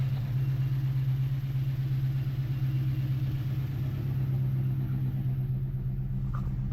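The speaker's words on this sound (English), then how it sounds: "The beautiful sound of V8." A Dodge Charger V8 engine idling at operating temperature after a rushed gasket repair, a steady, loud, even rumble continuing throughout with no voices.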